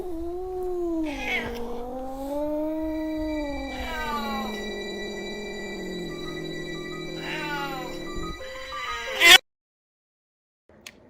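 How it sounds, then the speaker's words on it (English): Two unfamiliar cats yowl in long, rising and falling caterwauls, close and loud, ending in a sharp burst of hissing before silence. "So it turns out if cats have never seen each other before, they automatically hate each other."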